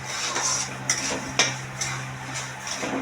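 Sugar being stirred into sooji karah parshad in a pan, the spoon scraping steadily with a few sharper metallic knocks against the pan, close and continuous, no talking.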